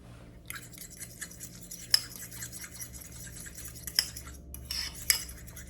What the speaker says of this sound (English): I'm going to beat it to make it smooth.